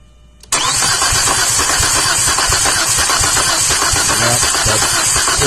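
A 2004 Chevrolet Epica engine cranks steadily with a compression tester fitted in cylinder three, a loud continuous churning that starts abruptly after a brief quiet moment and holds unchanged to the end.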